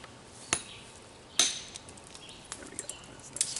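Obsidian being flint knapped, a few sharp isolated clicks as flakes are struck off, one loud crisp strike followed by fainter small taps, close and quiet otherwise.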